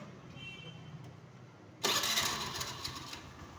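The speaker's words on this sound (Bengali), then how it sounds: "এখন স্টার্ট করব গাড়ি।" Honda Activa scooter with a freshly refitted engine: a quiet workshop lull, then the engine abruptly catches and runs, settling into a steady, close idle.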